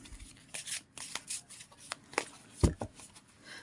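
A deck of cards is shuffled by hand at close range, a series of quick riffling bursts and soft slaps with brief pauses between them, the last burst sharpest.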